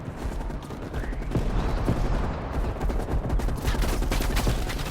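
Gunfire from Call of Duty: Black Ops Cold War crackles in a dense fusillade, rapid bursts and sharp single shots layered over a loud rumbling battle bed, continuous for several seconds.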